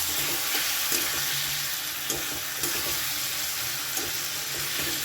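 Soaked, washed Gobindobhog rice stirred into a hot frying pan while making muri ghonto, giving a steady soft sizzle with scraping stirring strokes and faint clinks throughout, no talking.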